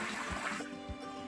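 Water poured by hand into a tank for an Arduino-based water level controller, a steady wet splashing and trickle, close and moderately loud, with a constant hum underneath.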